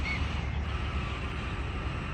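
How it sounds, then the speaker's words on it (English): White Australian cockatoos calling harshly in a city centre in south-east Queensland, their raucous caws mixed into steady traffic and street noise with no voices. "if you can see those white birds, they're all Australian cockatoos."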